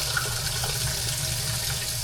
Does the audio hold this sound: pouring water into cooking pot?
yes